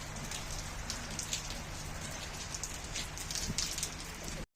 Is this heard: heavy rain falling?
yes